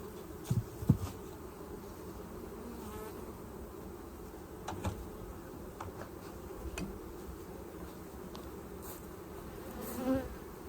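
A steady drone of many honeybees buzzing close by around hives on a pallet, with a few louder individual bees passing near and sharp bursts at the start and end.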